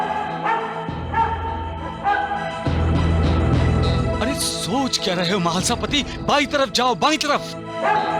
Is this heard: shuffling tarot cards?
no